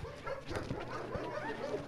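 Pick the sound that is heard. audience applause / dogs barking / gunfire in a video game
dogs barking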